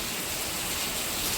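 Heavy rain pours down on a village in the late afternoon, a loud, unbroken wash of noise that stays dense and constant throughout, with no talking.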